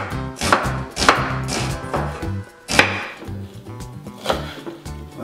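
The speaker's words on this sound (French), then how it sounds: "on prend un oignon et on va l'émincer finement" A knife finely chops an onion on a cutting board, giving a handful of crisp, irregular chops over steady background music.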